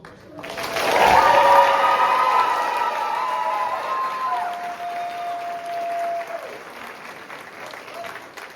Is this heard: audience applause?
yes